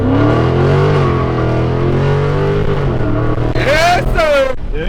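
A car engine revs loud and steady with the gas and brake both held down during a burnout lesson, its droning roar rising in pitch toward the end, while someone talks over it.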